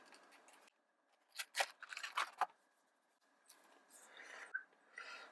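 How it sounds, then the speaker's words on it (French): A Spigen Neo Hybrid phone case for the Nexus 6 is unboxed close up. Soft rustles, crinkles and sharp scratchy packaging sounds come in quiet irregular bursts between near-silent pauses. "Et on va le déballer tout de suite."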